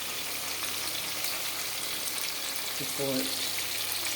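Onions fry and get stirred in a pan at home, a soft steady sizzle running throughout, with a brief spoken word near the end.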